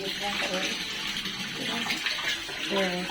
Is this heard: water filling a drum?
yes